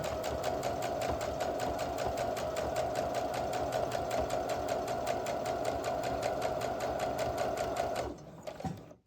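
A sewing machine stitching quilt patchwork seams runs in a fast, even, rhythmic chatter for about eight seconds, then stops abruptly with a few faint handling sounds.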